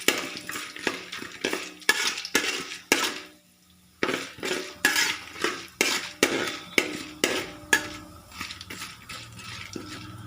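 Chana dal and urad dal sautéed in a pan for rava upma: a steady run of close, rhythmic spoon strokes scraping and clinking against the pan over a faint sizzle, with one short pause and no talking.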